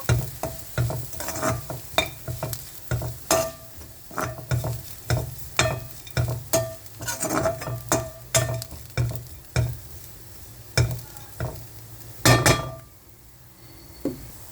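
A spoon stirs beetroot fry with pounded coconut and shallots in a pan, producing repeated scraping clinks in a steady rhythm over a soft sizzle, close and fairly loud, with no talking.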